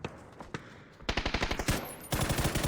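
A competitive video game match: a few sharp single shots, then fast automatic bursts of gunfire that rattle loud and close, one long volley after another, with no voice over them.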